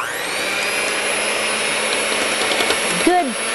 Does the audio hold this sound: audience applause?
no